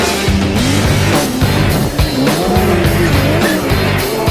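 Highly modified 400-horsepower snowmobile climbing a steep incline, its engine roaring loud and continuous with rising and falling revs, up close and alone throughout.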